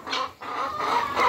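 Chicken clucking close by, a few short cackling calls running through the whole moment with a brief lull near the start.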